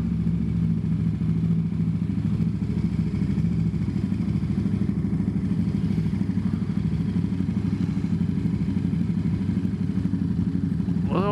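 A motorcycle engine rumbles loud and steady with a dense, continuous mechanical drone and light clatter, staying constant without a clear rise or fall.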